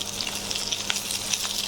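Boiled long beans tossed into frying onions hiss and sizzle steadily in hot oil, a close, continuous crackle with small popping spits throughout.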